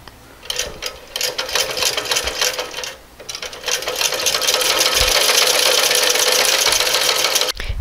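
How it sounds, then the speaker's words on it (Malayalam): A sewing machine stitches the skirt onto the top portion of an umbrella-cut kurti, a loud close mechanical whir that starts, pauses briefly, then runs steadily for several seconds before stopping. "ഇപ്പോൾ നമ്മൾ സ്കേർട്ടും ടോപ്പ് പോർഷനും തമ്മിൽ തയ്ച്ച് കഴിഞ്ഞു"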